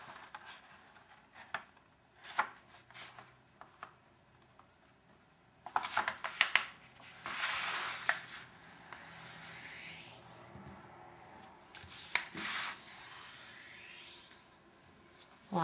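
Paper being folded diagonally, corner to corner, into an umbrella-shaped greeting card: soft crinkling, rubbing and sharp creasing sounds come in close, quiet bursts with pauses between them, and no one speaks.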